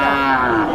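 Cattle at a busy livestock market in Tirupattur, where a single loud, close moo with a drawn-out, slightly falling tone fills the short moment.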